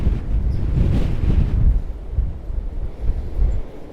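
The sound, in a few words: strong storm wind blowing at allotment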